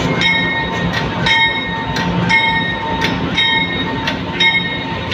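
Passenger train on an Alice Springs to Darwin journey in the Northern Territory, rolling steadily with a constant rumble, a faint tonal whine and regular soft clicks of the wheels over rail joints, heard from on board with no talk.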